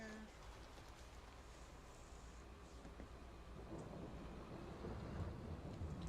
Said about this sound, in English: There's more thunder even though it's snowing.